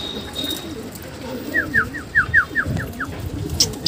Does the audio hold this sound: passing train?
no